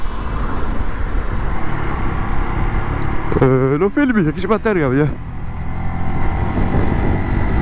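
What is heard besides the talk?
Junak M12 Vintage motorcycle riding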